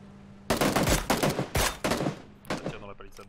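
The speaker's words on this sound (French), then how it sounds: "Ça tire dans la palissade" Gunfire in PUBG, several loud bursts of rapid automatic shots in quick clusters after a brief quiet start, then a few sharper separate shots near the end.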